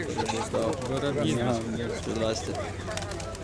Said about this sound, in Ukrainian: Такі пишненькі у вас голуби